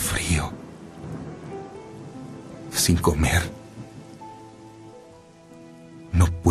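Steady rain with rumbling thunder, including louder crashes around the middle and near the end, while a voice speaks over the storm.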